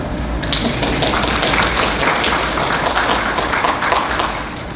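An indoor audience at a drug education event claps steadily for several seconds, a dense patter of many hands that holds level before easing slightly at the end.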